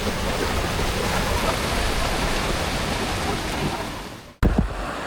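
Waterfall at Umod Falls in Sagada roaring as a steady, loud, broadband wash of falling water that fills the scene, cut by a brief dropout and a sharp knock near the end.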